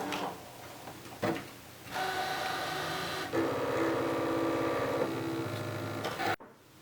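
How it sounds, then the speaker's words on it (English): A Brother ScanNCut machine cuts a sticker test cut, giving a steady mechanical whir with ticking carriage movements and a few brief knocks, running close and alone for several seconds before stopping abruptly. "now let's let the machine cut it"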